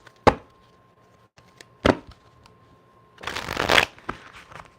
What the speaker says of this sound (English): Let's shuffle these up real quick